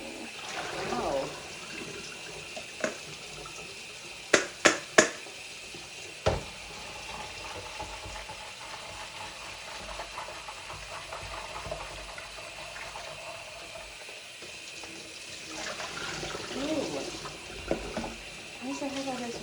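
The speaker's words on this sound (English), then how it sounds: "I think that's enough rinsing." A kitchen tap runs steadily as blueberries are rinsed under it, with a faint continuous water hiss, a few sharp clinks early on and a person talking at times.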